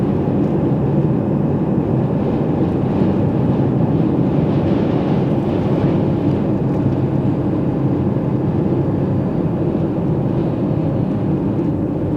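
Steady, rushing wind roars continuously across the microphone on the Big Sur International Marathon course, a loud broadband buffeting that barely changes for the whole stretch.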